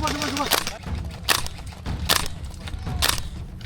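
Airsoft machine gun fire during a MilSim game in Corsica: four sharp bursts about a second apart, over steady outdoor background noise, with faint voices around.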